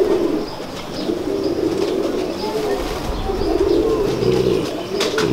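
Ferozpuri pigeons cooing in a loft, steady low rolling coos throughout with occasional chirps and faint wing flutters, fairly loud and close.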